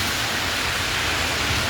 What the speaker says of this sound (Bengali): অনেক বৃষ্টি হচ্ছে